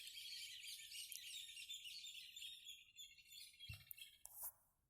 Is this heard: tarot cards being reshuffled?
no